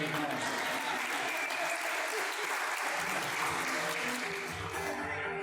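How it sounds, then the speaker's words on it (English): A steady round of applause fills a crowded room at a Ghostbusters charity event, dense continuous clapping from many hands, loud and sustained throughout with faint voices mixed in. "We need to make sure we give them a round of applause"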